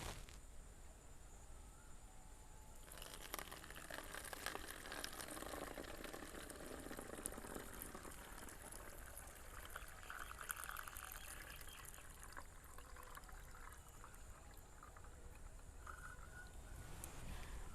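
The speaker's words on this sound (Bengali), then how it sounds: "একটা পাতলা স্বচ্ছ কাপড় নিয়ে নিয়েছি, এর মধ্যে দিয়ে দেব। দিয়ে আমি ভিনিগারটা আবারও ভরে নেব।" Homemade vinegar pours through a thin cloth strainer into a bottle, a soft continuous trickle and splash that runs for well over ten seconds at a fairly quiet, even level.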